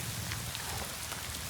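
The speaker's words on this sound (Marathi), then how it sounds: "बरं पाऊस बिऊस चालू आहे." Monsoon rain falls steadily in the Sahyadri hills near Ghangad Fort, a dense even patter on surfaces with no voices, continuous and fairly soft throughout.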